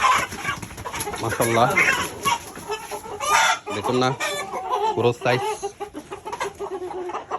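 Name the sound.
tiger chicken clucking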